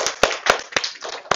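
Students in a university class clap at a youth employment academy lecture, a few sharp, distinct claps in an uneven rhythm, close and fairly loud.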